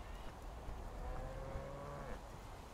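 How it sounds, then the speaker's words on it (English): A cow on an island in the survival game Survival: Fountain of Youth gives a long, low moo. The call rises and falls over about two seconds at moderate distance, above steady ambient noise. "Just leave me alone, cow."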